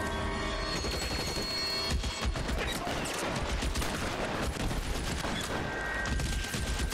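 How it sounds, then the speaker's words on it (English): Rapid bursts of loud shotgun fire crackle and crash continuously in L.A. Noire, with sharp blasts layered over a dense, noisy background. "Dude, the shotgun's loud as fuck"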